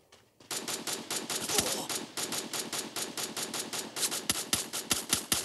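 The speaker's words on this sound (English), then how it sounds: "somebody done shooting at me, man." Rapid automatic gunfire in the mobile battle royale game Free Fire, a long rattling stream of sharp cracks in quick steady bursts, fairly close and loud with no talk over it.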